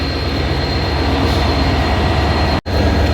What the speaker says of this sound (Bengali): তো আমরা ক্রিউ স্টেশনে নামলাম